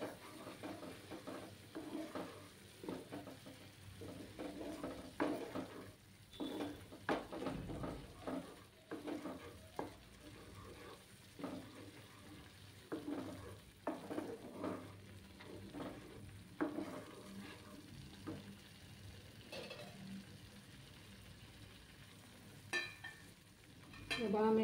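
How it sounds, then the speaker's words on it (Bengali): Palm sandesh mixture frying on low heat in a pan, stirred with a utensil that scrapes and taps in irregular bursts over a soft, steady sizzle, close by and with no talking. "আমি এটাকে একটু ভেজে নেব।"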